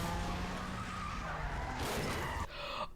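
Sports cars skid hard during a movie car chase, with loud, close tire squeal and engine roar filling the whole moment before a sharp cut to another screech.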